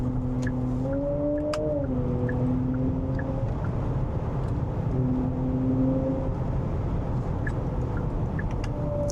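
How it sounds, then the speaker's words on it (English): An electric car in sport mode gives off a synthetic drive sound, tonal hums that bend upward and shift pitch over a constant rolling road noise, heard alone at moderate level. "when you go into sport mode, you see it's getting louder"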